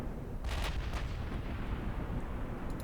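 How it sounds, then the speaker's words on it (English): Heavy 16-inch naval shells firing in the game Ultimate Admiral Dreadnoughts: a couple of deep, distant booms over a continuous low rumble of battle, with no talk. "16-inch shells are finding their mark"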